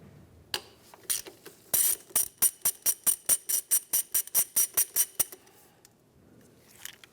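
A ratchet loosens 8mm bolts during a 2003-2011 Honda Element alternator job: a near, fast series of about twenty crisp ticking clicks in an even rhythm, then stopping.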